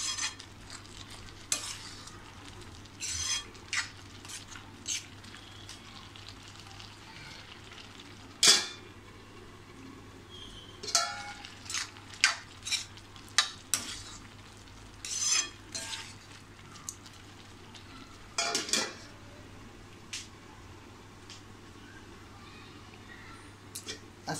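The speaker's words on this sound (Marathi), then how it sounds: "असं सतत आपल्याला मध्ये मध्ये असं ढवळत राहायचं आहे. आणि आपण छान आता हे दूध आटवून घेऊया." Milk for carrot halwa stirred in a pan as it reduces: irregular scraping strokes of a spoon against the metal come in short bursts, over a low steady hum and faint simmering.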